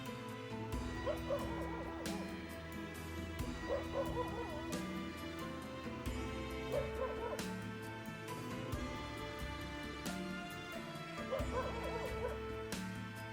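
Dogs barking, yipping and whimpering repeatedly in short bursts, fairly close, over a dense steady background of other sound.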